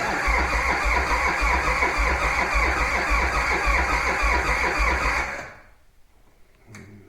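A cold engine with thick oil cranks over and over in a steady, loud, rhythmic churn for about five seconds without catching, then stops and leaves near silence with a faint click.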